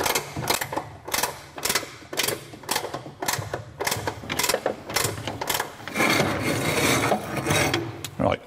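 Motorhome jack being wound down by hand after a wheel change, a series of rhythmic rasping ratchet strokes roughly every half second, close and moderately loud, ending in a denser steady scraping.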